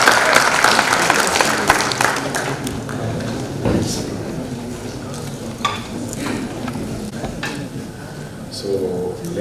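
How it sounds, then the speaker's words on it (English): An audience at an academic conference keynote session at Allama Iqbal Open University in Islamabad breaks into sharp, scattered clapping that thins and softens over several seconds while people speak over it. "Please give him a big round of applause."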